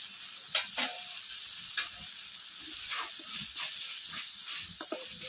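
Kashmiri chilli powder and other spices sizzle steadily in a hot pan for a vegetarian jackfruit kofta curry, a continuous close hiss broken by a few sharp stirring scrapes and clinks.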